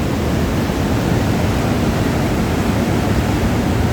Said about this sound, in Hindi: जल के वेग से मेरी आवाज़ सुनाई दे रही होगी कि नहीं। बहुत तेज़ आवाज़ है यहाँ पे